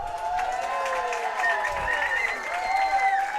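A stadium crowd at an ultimate frisbee game applauds and cheers loudly after a no-foul call, a dense wash of clapping with whistles and shouts rising over it.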